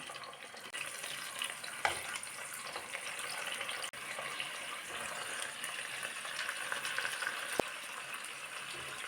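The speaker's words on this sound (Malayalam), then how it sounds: "കുക്കറിൽ വേവിച്ച ചിക്കൻ കഷ്ണങ്ങൾ എണ്ണയിലേക്ക് ഇട്ട് കൊടുക്കാം" Steady frying sizzle of pressure-cooked chicken pieces dropped into oil, broadband crackle throughout, a few sharp clicks and clatters of stirring over the continuous hiss.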